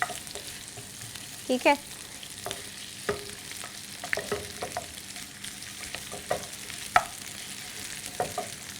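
Crunchy vegetables tossed in a hot pan, with a steady sizzle punctuated by sharp scraping clicks of a utensil stirring at irregular intervals; a brief voice speaks once.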